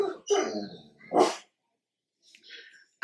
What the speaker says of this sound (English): my dog was freaking out, so he had to go outside